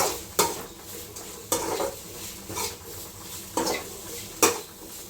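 Pasta being stirred in a pan while cooking toward a golden texture, with a few sharp scrapes and clinks of a utensil against the pan at irregular intervals over a soft sizzling background, no talking.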